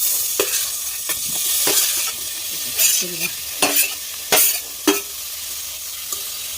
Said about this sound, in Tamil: இப்போ பன்னீரை வந்து பட்டர் போட்டு கொஞ்சம் ரோஸ் ஆ ரோஸ்ட் பண்ணிக்கலாம்